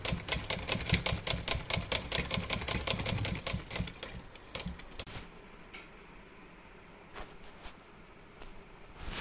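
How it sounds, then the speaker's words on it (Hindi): A sewing machine runs a side seam on a cloth face mask, a fast rattling stitch for about five seconds, then stops, leaving faint handling sounds and a few light clicks. "साइड से मशीन से सिलाई लगा लेंगे।"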